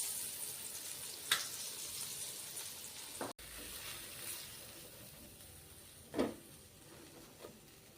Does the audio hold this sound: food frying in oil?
yes